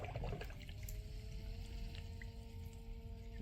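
Water bubbling and flowing as an ice-water cooling system for a Peltier cloud chamber starts up, a steady close gurgle with a faint pump hum underneath and no talking.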